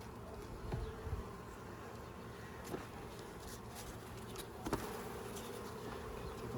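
Honeybees from a swarm hive buzz steadily and close during a hive inspection, a dense continuous drone with a few brief knocks and handling sounds.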